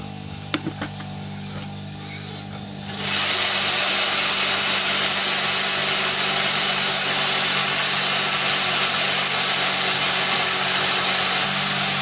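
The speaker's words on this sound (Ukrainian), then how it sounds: "ось такий помол робить наш новенький млин" A new grain mill starts up abruptly after a few quiet seconds and then runs with a steady, loud, continuous grinding whir close by.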